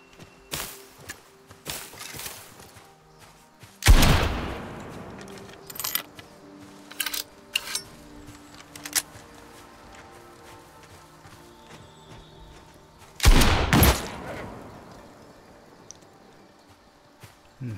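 Gunshots while hunting animals in the survival game Nightingale: two loud, sharp bangs, well apart, each with a rumbling tail, set among quieter clinks, footsteps and scattered small impacts.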